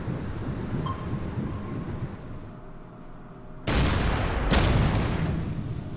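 Naval guns firing on a cruiser in a World War II strategy game set in Norway: a low, windy rumble, then two loud, sudden booming blasts about a second apart, each trailing off into a heavy roar.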